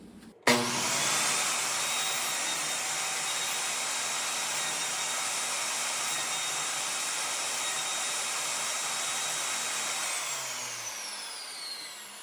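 Power saw cutting a wooden tenon for a mortise and tenon joint, starting with a sharp spin-up and then holding a loud, steady high-pitched whine for about ten seconds before winding down.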